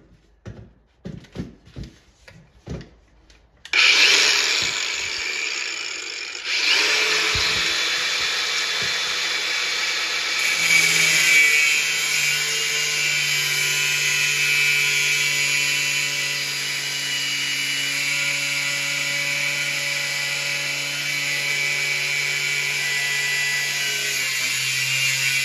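Power tool cutting into a Paperboy arcade cabinet to make a lower hinge: after a few light taps, a loud, continuous high whining cut kicks in and runs steadily for about twenty seconds.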